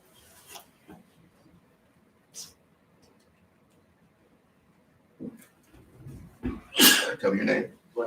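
A single sharp sneeze bursts out near the end after a mostly quiet stretch, with a few small breaths and movements before it.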